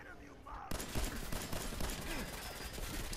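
Gunfire erupts in Fallout 4, a sudden loud onset of rapid repeated shots forming a dense fusillade that continues steadily to the end, with faint talk beforehand.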